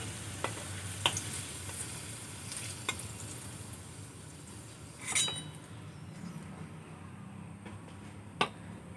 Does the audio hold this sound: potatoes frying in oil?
yes